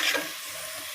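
Onions fry with ginger garlic paste in a steady, close sizzle, briefly louder at the start and then evening out into a soft hiss.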